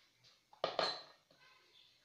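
Cake batter for an eggless apple cake is scraped into two pans with a few clinks and knocks of utensils against metal, moderately close, followed by quieter handling sounds.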